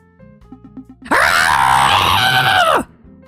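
A slime mold creature in the video game DateMath lets out a loud, harsh screech lasting under two seconds, rising abruptly out of quieter tonal game sounds and cutting off just as sharply.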